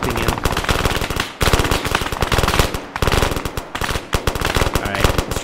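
Sustained rapid automatic gunfire in the video game Arma 3 during a zombie attack in New York City, loud close bursts of dense rattling shots with only brief gaps.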